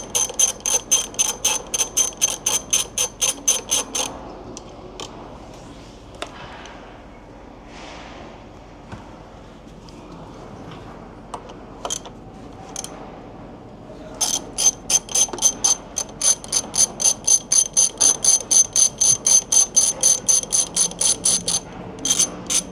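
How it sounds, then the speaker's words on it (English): A socket ratchet backs out the front mudguard bolts on a Honda CBF1000 motorcycle, giving rapid even bursts of sharp clicking at the start and end with quieter handling and clinks in the pause between. "let's try and take the front bolts off the mudguard"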